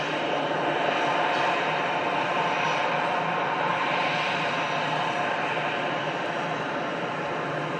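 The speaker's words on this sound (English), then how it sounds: "An EasyJet landing" An EasyJet airliner landing at Manchester Airport in the rain, a steady broad roar of jet engines and rushing spray, constant and fairly loud throughout.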